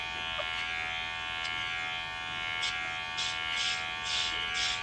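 Electric hair clippers fitted with a number 2 guard buzz steadily during a self haircut, with a constant close whine and repeated brief scratchy pulses as the blades flick through hair, with no talking.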